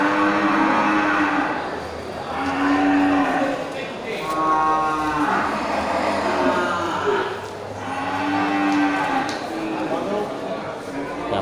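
Male water buffalo moo in long, low, loud calls repeating every few seconds, close by, with a person speaking among the livestock at a buffalo sale.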